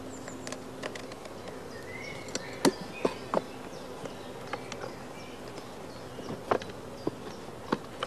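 Honey bees fly around the small entrance-disc hole of queen-rearing nuclei. A close, steady buzzing drone is dotted with scattered clicks and the pitch shifts of individual bees passing by.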